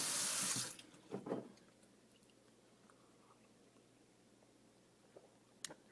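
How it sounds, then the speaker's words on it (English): A kitchen water tap fills a glass, a loud rushing stream for under a second that stops abruptly, followed by a few clinks and quiet handling sounds in a still room. "I think I might actually like to get a glass while I tell you guys a story about water."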